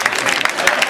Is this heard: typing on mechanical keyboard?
no